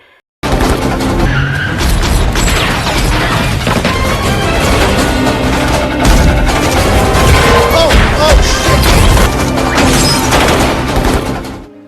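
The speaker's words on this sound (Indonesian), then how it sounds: "tiba-tiba kelompok Harris menyerang, sehingga adu tembak pun tak terhindarkan" A gunfight scene from the film Central Intelligence, with volleys of gunshots packed into a loud, dense action mix that also carries screeching and crashing, running nonstop.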